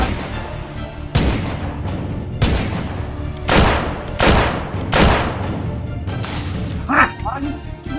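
Repeated gunshots ring out as about six sharp, loud bursts with decaying tails, irregularly spaced a second or so apart, while voices talk and shout between them.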